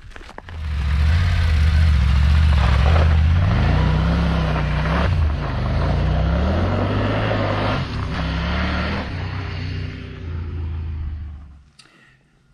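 A Triumph Tiger 900 Rally Pro motorcycle engine warming up close by, a loud steady idle with a deep throbbing note that rises and falls through a few gentle revs before cutting off near the end.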